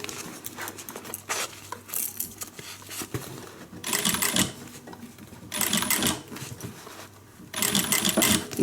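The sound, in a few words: sewing machine stitching a guitar handbag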